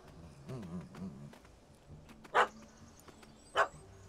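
In The Witcher 3: Hearts of Stone, a dog barks at a cat up a tree, giving two sharp yips amid low whimpering and rustling, with faint voices murmuring in the background.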